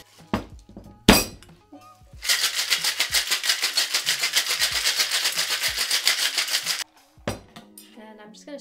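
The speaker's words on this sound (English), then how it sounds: "let's shake it on some ice" A whiskey smash cocktail is shaken hard with ice in a small metal tin, a loud, rapid, steady rattle lasting about four and a half seconds. Sharp clinks of ice and glass come just before and after the shaking.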